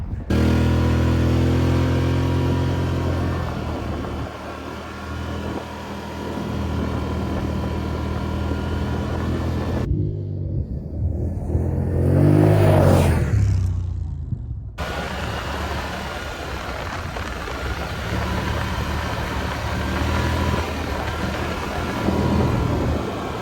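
An ATV quad engine drones on a winter trail, a constant mid-loud mechanical hum, with a brief windy whoosh partway through before the engine noise returns.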